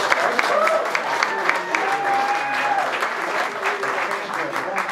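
A crowd at the Rock and Soul Museum in Memphis claps and cheers continuously, with whoops rising above the applause and a voice talking over it.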